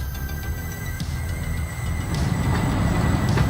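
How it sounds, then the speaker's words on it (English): Driverless train rolling along the tracks, a steady low rumble that slowly grows louder as it nears, with faint high rail whine and occasional clanks. "It can be a little scary to see a train moving without a driver"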